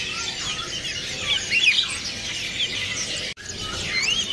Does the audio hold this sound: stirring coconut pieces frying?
no